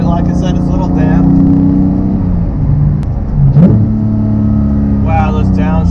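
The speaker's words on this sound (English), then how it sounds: "those downshifts sounds awesome." A 2018 Porsche 991.2 911 GT3 with manual gearbox downshifts, its engine loud and near with falling and rising revs, a brief blip in the middle and a climb again at the end.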